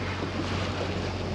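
A sailboat motors under engine power, giving a steady low engine drone mixed with rushing wind and water noise, loud and continuous throughout.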